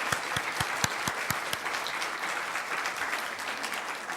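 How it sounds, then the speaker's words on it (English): Applause from a church congregation at an Easter Sunday service, a steady dense patter of many hands clapping across the whole stretch, moderately loud with a few sharper claps standing out near the start. "we'd like to kind of give you a quick round of applause if you are joining us for the first time"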